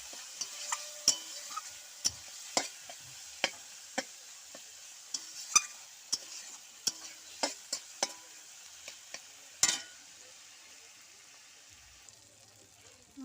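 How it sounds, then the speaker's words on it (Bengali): Turmeric-laced spice paste fries in oil while a utensil repeatedly scrapes and stirs it. The scrapes land as sharp, irregular clicks above a steady low sizzle, with faint talk at moments. "হলুদ গুঁড়ো দিয়ে মশলাটা তেল ছাড়া অবধি ভালো করে কষাই করে নেব।"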